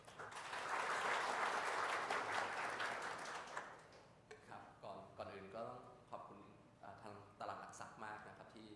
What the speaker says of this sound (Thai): เพื่อไม่การเสียเวลาขอขอเรียนเชิญ ปรบมือให้กับดรสลิดโชค ชัยนิรันดร์นะคะ